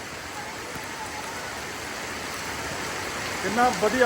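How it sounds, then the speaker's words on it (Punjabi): Heavy rain pours down in a steady, dense hiss that fills the whole stretch, with a voice speaking briefly near the end. "ਬਹੁਤ ਤੇਜ਼ ਮੀਂਹ"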